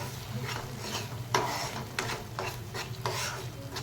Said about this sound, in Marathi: छान असं हलवून घेणार आहे मी